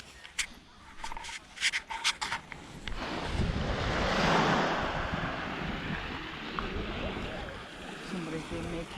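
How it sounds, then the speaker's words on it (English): Waves wash onto a small beach in Cornwall, a soft swelling surf rush building and fading, with wind buffeting the microphone and some handling knocks at the start. "What a beautiful little beach we found."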